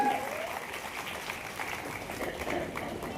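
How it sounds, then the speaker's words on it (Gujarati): Audience applause at a student award ceremony, a steady dense clapping crowd holding at an even level throughout, fairly near, with no talk over it. "જોરદાર તાળીઓ સાથે આર્યનભાઈનું આપણે સન્માન કરીએ"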